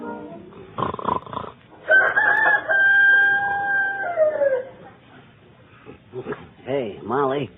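A human voice mimics a rooster's crow for a 1941 radio comedy, a long drawn-out call that rises, holds and then falls away, with spoken lines before and after it.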